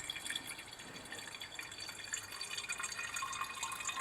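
Dry toluene poured into a reaction flask, giving a steady, moderately faint trickle of liquid with a fine, splashy texture that runs continuously without talk.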